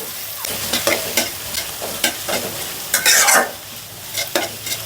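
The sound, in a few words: onions frying in mustard oil for beef biryani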